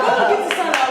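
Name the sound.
audience applause on a reality show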